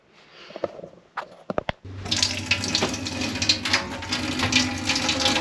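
Water gushes steadily from a tap aboard a sailboat after a few brief clicks and knocks, a broad continuous splashing rush that stays loud and close.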